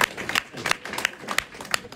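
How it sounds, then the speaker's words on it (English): An audience at an African arts festival claps steadily, dense overlapping hand claps with a few louder sharp claps, spread across a crowd and continuing throughout without speech. "give yourselves a round of applause"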